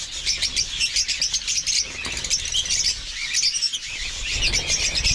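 African lovebirds chirping in an aviary, a busy overlapping chorus of sharp, high tweets and chatter from many birds close by, continuous throughout.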